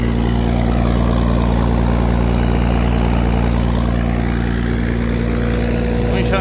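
A John Deere 170 engine idling on a grain extraction machine unloading wheat from a silo bag, a loud, close, steady low rumble with a constant droning hum and no break in rhythm.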